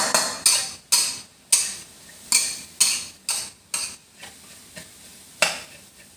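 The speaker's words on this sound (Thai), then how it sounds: "ผัดไปเรื่อยๆจ้า" Pork and long beans are stir-fried in a pan, with about a dozen sharp, rhythmic spatula scrapes over a soft sizzle, loud and close.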